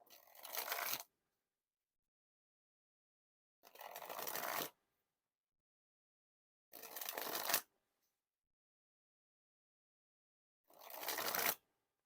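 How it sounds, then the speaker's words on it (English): A deck of Bicycle Street Art playing cards dribbled from hand to hand in four separate bursts of rapid fluttering card riffles, close and crisp, each about a second long and separated by silence. "when I do the dribbles, the cards want to tend to slide out of my hands."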